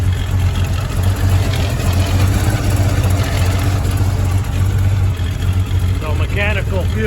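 The supercharged engine of an AMC Javelin runs loud and rough just after a cold start, a steady low throbbing idle that continues throughout while someone talks over it.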